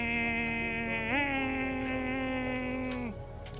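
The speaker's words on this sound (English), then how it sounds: "I've never heard a bike sound like that in my life. What was that? That's a 125." A 125cc ultra-lightweight classic racing motorcycle at the Classic TT road races sets off along Glencrutchery Road, its high buzzing engine note jumping up in pitch once, then holding steady before cutting away abruptly.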